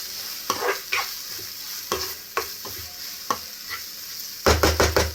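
Chili powder and mushrooms fry in a pan inherited from a mother, as a spatula stirs in repeated scraping strokes over a bubbling sizzle, ending in a quick burst of rapid scrapes.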